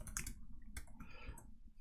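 A few quiet keystrokes tapped on a computer keyboard while writing C++ code, soft irregular clicks close by with no talking.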